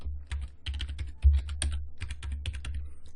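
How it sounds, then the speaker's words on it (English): Computer keyboard tapped out in a quick run of sharp, close key clicks as a password is entered, with no talking. "I'm going to type that password in again and click add"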